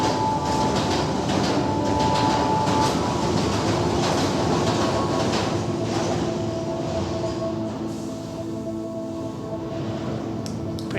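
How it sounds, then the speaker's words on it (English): A London Underground Piccadilly line train roars past close by in a dark disused station, a dense rumbling rush with rattling clatter and a faint squeal, slowly easing toward the end. "the train rushes past on the Piccadilly line"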